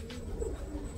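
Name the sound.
pigeon cooing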